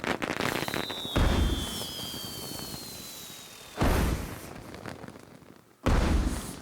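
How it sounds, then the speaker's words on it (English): Fireworks going off in the Disney Infinity 3.0 video game at a Main Street USA build, with three loud booming bursts spaced a couple of seconds apart and whistling rising trails between them. "there's 30 fireworks that go off, and then it plays a grand finale at the end"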